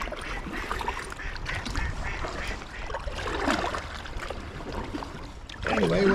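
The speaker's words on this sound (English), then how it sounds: "The ducks are laughing at me." Ducks quacking near an inflatable kayak on the water, scattered calls over a rushing, wind-like background, with a louder burst near the end.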